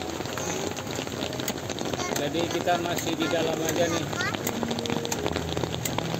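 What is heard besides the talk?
rain falling on a campervan at night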